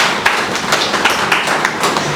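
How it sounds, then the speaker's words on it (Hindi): A few students clap for a classmate in an IAS coaching classroom, scattered, uneven claps and taps close by, sparse rather than a full round of applause, with almost no talking. "पूजा के नाम पर एक ताली तो बजनी ही चाहिए"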